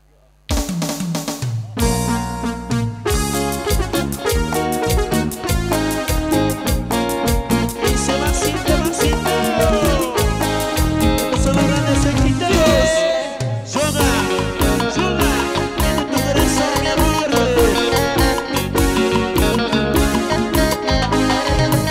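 A live Bolivian cumbia-style group from Tarija plays a song at a graduation show, with full band texture, steady driving rhythm and dense layered instruments, loud and continuous after a brief quiet opening.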